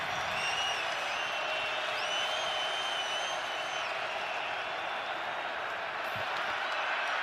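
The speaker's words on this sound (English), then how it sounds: "Crowd up and hollering" A football stadium crowd roars and hollers continuously at an NFL game between the Browns and the Patriots, a dense wall of cheering that stays loud throughout, with faint whistles and shouts rising above it.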